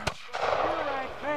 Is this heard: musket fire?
yes